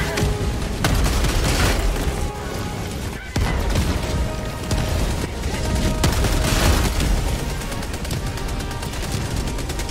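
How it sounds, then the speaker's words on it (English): Orbital laser strike in Helldivers 2, a loud sustained roar of booms and crackling blasts with repeated heavy impacts, layered over rapid gunfire in a chaotic battle mix. "Laser coming down."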